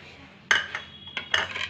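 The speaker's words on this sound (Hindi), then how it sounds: "इसको थोड़ा दही को फेंट लें आप" A spoon beats yogurt in a bowl: bright metallic clinks and scrapes come in two close bursts, loud and near, with short pauses and no talking.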